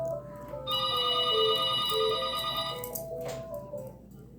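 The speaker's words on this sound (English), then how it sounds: "The phone's ringing." A telephone rings close by, a bright electronic ringtone playing a repeating melodic pattern for a few seconds before cutting off.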